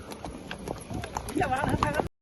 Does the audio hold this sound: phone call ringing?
no